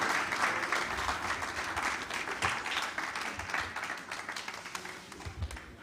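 A conference audience gives a sustained round of applause, many hands clapping in a dense, steady wash that holds loud for several seconds, then thins slightly toward the end with no speech over it.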